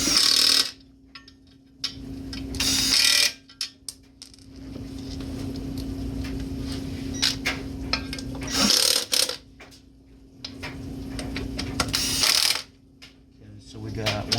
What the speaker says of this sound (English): Get these in by a couple threads. We'll hit it with the driver.